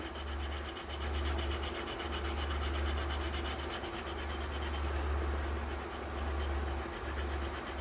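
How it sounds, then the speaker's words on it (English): Black polishing compound rubbed onto a leather sharpening strop, a continuous close scuffing rub with a faint regular rhythm, steady and unbroken throughout. "I've always had good luck with the black compound. Just rub it on there until it's completely covered."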